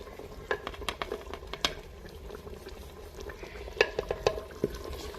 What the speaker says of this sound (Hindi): मसालों को हम थोड़ी देर के लिए अच्छे से भून लेंगे।